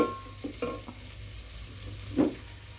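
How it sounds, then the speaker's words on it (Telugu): Ginger garlic paste fries in a pan for a lady's finger curry, with a soft, faint sizzle and a few brief scrapes of stirring. "జింజర్ గార్లిక్ పేస్ట్ వేసి ఎర్రగా కాల్చండి"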